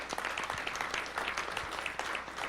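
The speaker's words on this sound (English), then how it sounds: "This man deserves a round of applause" An audience applauds steadily and loudly throughout, a dense crowd of clapping hands with a few scattered louder claps, no speech over it.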